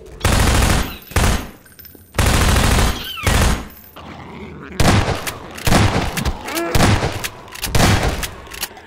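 Automatic rifle and shotgun fire from a zombie combat game, sustained bursts of rapid shots alternating with heavy single booms, loud and close, with short pauses between volleys.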